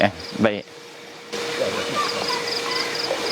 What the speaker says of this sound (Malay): Belalang pun ada kat sini. Ada belalang nak datang, nak dengar ceramah juga.